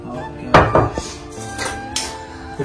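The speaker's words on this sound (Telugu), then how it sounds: "ఇలాగా కచ్చా పచ్చగా దంచుకోవాలి" Spices coarsely pounded by hand in a mortar for a fish curry: a few sharp, close knocks at uneven intervals, loud against a quiet room, with no talking.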